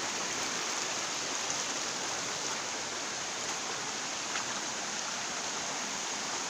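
A forest stream rushes after heavy rain, a dense steady hiss of flowing water, loud and continuous without pause or other sounds.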